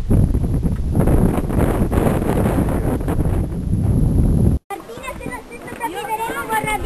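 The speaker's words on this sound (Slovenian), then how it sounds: "Na vetrovnem prelazu." Strong wind on a windy mountain pass on Mt. Paterno (Paternkofel) roars and buffets the microphone loudly and continuously, with voices faintly mixed in.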